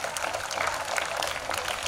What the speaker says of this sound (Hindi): जोरदार तालियों के साथ स्वागत कीजिए हमारे माननीय प्रधानाचार्य जी का